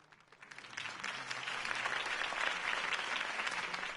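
A crowd bursts into sustained applause in a Batman video game, following a campaign speech for Harvey Dent; the clapping swells quickly from a few hands into a dense, steady roar and holds to the end.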